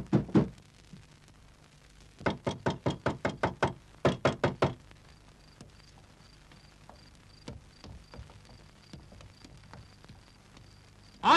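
Loud bursts of heavy fist pounding on a door, several rapid volleys of about six to eight blows each, close and sharp, with quieter room noise and a faint tone between them.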